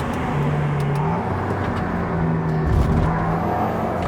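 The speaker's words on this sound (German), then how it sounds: "Schau mal, wie der auf der Geraden wegzieht." Race car, a KTM X-Bow GT-XR, pulling away on a track straight. The engine drones loud and steady from inside the car, with pitch rising as it accelerates.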